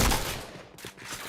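Gunfire in a shooter video game, a quick burst of shots at the start that trails off into scattered fainter pops, loud and up close with no voices.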